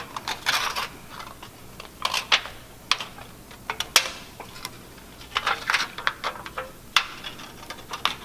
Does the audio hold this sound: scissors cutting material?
yes